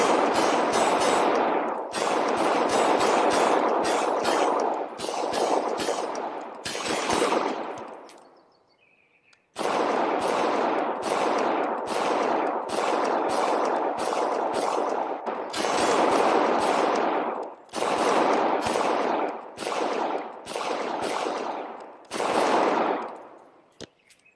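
Rapid strings of loud, close gunshots from a Taran Tactical pistol in the Ace XR virtual reality shooting game at a range, fired in sharp bursts with a brief pause midway.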